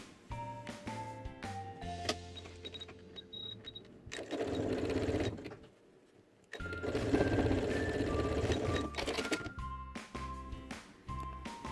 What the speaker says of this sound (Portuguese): E vou rebater uma costura aqui bem na beiradinha.